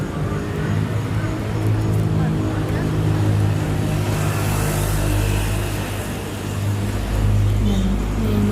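A car drives past on a town street in Manaoag, Philippines, its engine rumble steady and fairly close, with low traffic noise throughout and a swell near the end.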